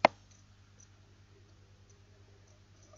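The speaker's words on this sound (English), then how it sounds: "Please click finish and continue." A single sharp computer mouse click right at the start, then near silence with faint background hum.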